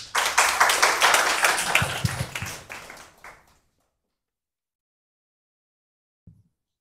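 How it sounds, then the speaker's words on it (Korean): An audience at a Korean labor policy forum applauds in a burst of distinct, rhythmic clapping that fades out after about three seconds, followed by silence and one faint tap. "박수 들어보겠습니다"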